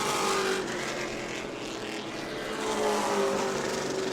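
Race cars roar steadily around the New Smyrna oval in a short-track event, a continuous loud engine drone with some engines passing closer at times.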